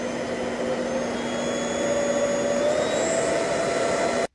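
A pet hair vacuum cleaner roars steadily at close range, its motor whine climbing slightly in pitch partway through as it steps through three suction levels, before cutting off abruptly at the end.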